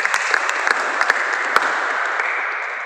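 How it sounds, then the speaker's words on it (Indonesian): A roomful of people at a church youth gathering applauds a discussion group, a dense, even clapping that stays loud and steady before tapering slightly at the end. "Kasih aplaus untuk kelompok"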